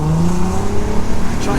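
An ABT-tuned Audi A3 with a 3.2 V6 accelerates hard in sport mode, the engine note climbing steadily in pitch as it revs, loud and close from inside the car.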